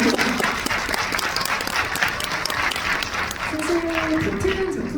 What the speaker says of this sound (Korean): 두 분이 부끄러우실 테니까 박수 한 번만 보내드릴게요